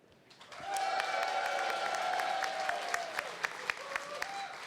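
A live audience at a tech startup pitch challenge in London cheers and applauds for a favoured finalist, with a sustained wave of shouting voices over dense clapping, swelling quickly and tapering to scattered claps near the end.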